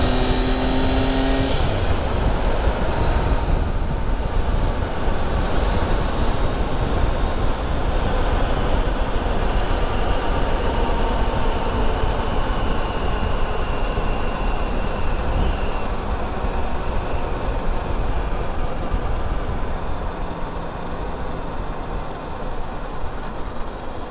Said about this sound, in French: ce que cela donne lorsque l'on coupe le moteur à 80 km/h